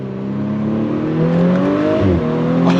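An Audi B9 S4 engine pulls hard at full throttle, its rising drone climbing steadily in pitch, then dropping briefly at a shift before it climbs again, loud and heard from inside the car without talking.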